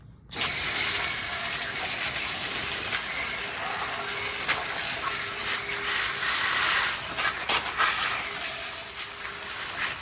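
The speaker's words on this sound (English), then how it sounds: "we're gonna go through and spray it down with some water and get all the engine degreaser off" Water spray hosing down a metal engine stand to rinse off engine degreaser, a steady close hiss of water with spattering that runs unbroken and loud throughout, with no talking.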